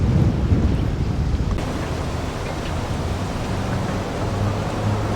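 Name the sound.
ocean swell at Caribbean anchorage, Mustique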